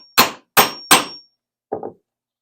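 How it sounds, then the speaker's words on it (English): Pricking iron struck with a hammer to punch stitching holes through a leather belt keeper: three sharp, evenly spaced knocks, then a softer double tap after a pause, close and alone. "we're going to use our pricking iron for that"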